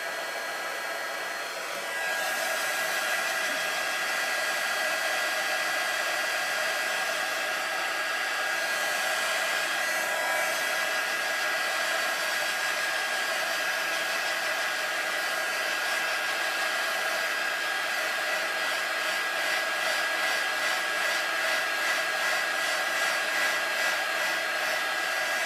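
A hair dryer blows steadily at close range over a watercolor pencil card, a loud continuous whoosh that runs unbroken for the whole stretch after a brief start.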